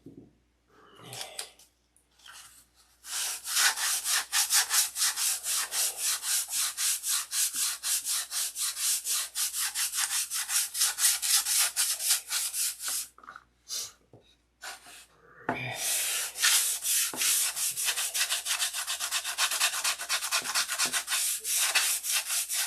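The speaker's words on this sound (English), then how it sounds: "I'm going to open hand sand to see what it looks like." Open-hand sanding on a Sig Magnum, a steady rasping rub in long rhythmic strokes, loud and close, with a few short pauses and a brief break near the middle before the scraping resumes.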